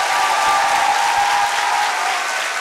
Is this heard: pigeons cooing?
no